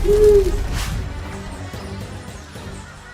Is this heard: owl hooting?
yes